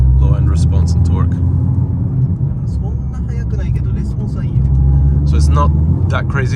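Tuned 700 horsepower Nissan GT-R R35 with a steady, loud low engine and exhaust rumble that swells and eases, running under nearby conversation.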